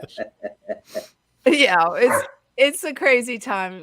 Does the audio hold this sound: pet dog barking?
yes